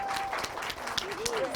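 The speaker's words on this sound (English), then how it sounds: "Can we have a round of applause for that?" Studio audience applause at a late-night talk show, a dense wash of clapping lasting under two seconds with a faint sustained tone running through it.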